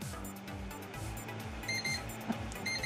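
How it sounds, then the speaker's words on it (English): An NZXT Sentry 2 fan controller sounds its over-temperature alarm, a steady run of thin, close electronic beeps repeating quickly over low fan hum, with no talking. "That's the alarm that goes off when it starts getting too hot"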